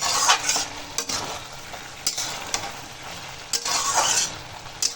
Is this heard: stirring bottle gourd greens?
yes